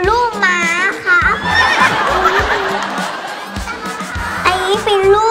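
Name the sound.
horse neighing, a foal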